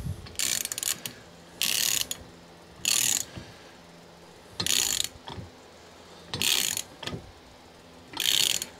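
A ratchet turns a thread chaser through a stripped or cross-threaded spark plug hole, giving six bursts of rapid clicking at a steady pace, each about a second long, with short quiet gaps between them.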